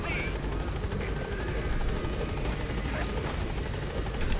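A helicopter coming in to land in the video game Metal Gear Solid V: The Phantom Pain, its rotor chopping steadily and loudly throughout, with someone talking over it.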